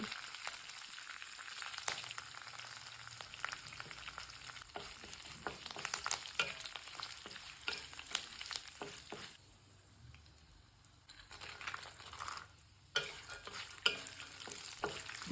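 Curry leaves, dried red chillies and peanuts frying in oil for Telugu mango rice, with a steady crackling sizzle and stirring scrapes throughout, dipping briefly quieter midway before the crackle picks up again.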